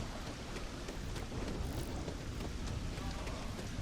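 Steady rain with thunderstorm rumble in the space game Starfield, a dense, continuous wash of falling rain and low rolling noise that fills the whole stretch without pause.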